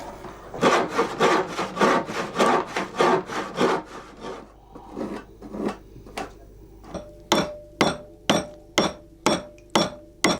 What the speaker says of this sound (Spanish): A golpe de azuela, Félix rebaja el grueso de la madera de la parte delantera del trillo